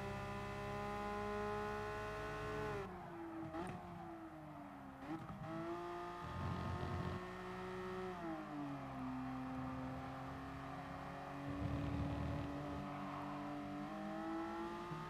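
A Ford Raptor in Gran Turismo Sport with traction control off, its engine droning steadily with rising and falling revs, a few sharp gear changes and brief bursts of tyre noise, loud and continuous with no voices.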